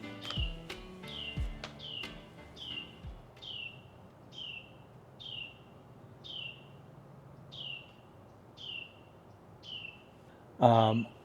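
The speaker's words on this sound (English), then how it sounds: "That is a loud bird." A bird calls repeatedly, sharp descending chirps at a steady rhythm, loud and close, with some thumps early on and a brief voice at the end.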